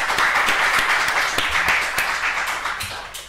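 A lecture audience breaks into sustained applause at the end of a talk on political virtue in Francisco Suárez, a dense wash of clapping with a few sharper claps that slowly tapers off.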